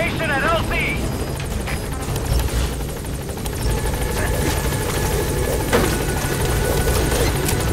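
Support helicopter from the video game Metal Gear Solid V, its steady rotor and engine drone holding loud and constant throughout, mixed with game sound effects and a radio-style voice speaking over it.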